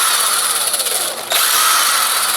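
A power screwdriver backing tiny screws out of scrap electronics, a close, high-pitched motor whine that stops briefly and then resumes, with a small click at the restart.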